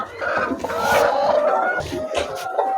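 Chickens cluck inside a poultry house of laying hens, a dense overlapping chorus of clucks and calls at close to moderate range, continuous and fairly loud throughout.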